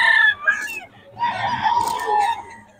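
Young roosters (stags) at a bustling Bocaue market crow loudly and nearby, with bright, drawn-out calls in two bursts separated by a brief lull, against a background of faint crowd noise.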